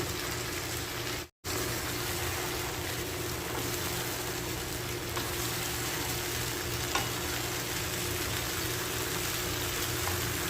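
Sautéed bitter gourd sizzles continuously in a hot pan, a dense steady crackle heard up close with faint stirring scrapes, broken once by a brief dropout.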